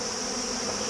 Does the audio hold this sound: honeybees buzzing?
yes